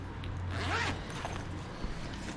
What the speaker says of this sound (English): And this unzips